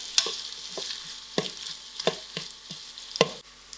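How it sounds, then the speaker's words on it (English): Onions fry in a pot over a soft, steady sizzle, punctuated by several sharp close knocks and scrapes of a spoon stirring at uneven intervals. "And then I'll allow this to fry."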